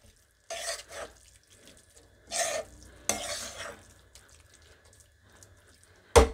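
Corn flour is stirred into mustard greens saag in a pot, making several separate bursts of wet scraping and mixing up close, with quiet gaps and a sharp clatter at the end.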